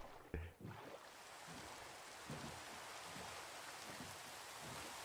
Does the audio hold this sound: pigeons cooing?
no